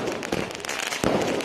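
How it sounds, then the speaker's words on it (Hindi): Celebratory fireworks set off at a birthplace during nationwide celebrations, a dense continuous crackling with sharper bursts near the start and again midway, loud and close. "उनके जन्म स्थान पर भी जमकर आतिशबाजी हुई।"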